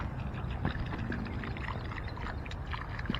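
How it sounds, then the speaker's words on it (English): Water flushing out of open sprinkler system pipes during installation, a steady broadband splashing and gushing that runs continuously and fairly loud throughout. "I'm seeing water coming out of the pipes"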